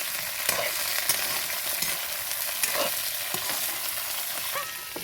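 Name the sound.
stirring food frying in a pan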